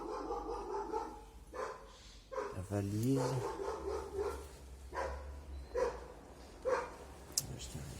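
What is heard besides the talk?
neighbour's dog barking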